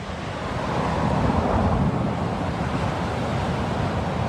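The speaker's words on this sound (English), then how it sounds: "Dashing, reckless sea." Ocean waves break along the shore of Portland Parish, Jamaica, giving a continuous, fairly loud rush of surf mixed with wind noise on the microphone. The sound swells slightly and then stays steady, with no voices.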